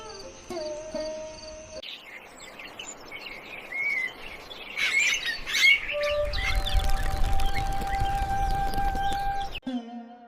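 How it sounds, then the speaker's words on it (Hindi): Soft chirps and tweets of small birds in a morning courtyard beside mud walls, scattered calls over a quiet background with faint insect-like trilling, later joined by a steady low hum. "आंगन में चिड़ियों की हल्की हल्की आवाजें सुनाई दे रही थीं"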